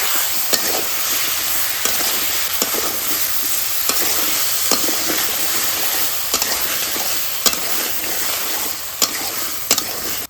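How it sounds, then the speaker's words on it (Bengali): Okra with ground cumin, garlic paste, turmeric and salt fries in a pan, a loud continuous sizzle broken by occasional sharp clicks of stirring. "এবার দিয়ে দিই ঢেঁড়স"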